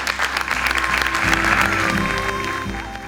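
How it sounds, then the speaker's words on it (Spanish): Audience applause, a dense burst of clapping from a crowd that swells and then begins to fade, with a few voices and a held tone faintly underneath. "Un aplauso para ellos."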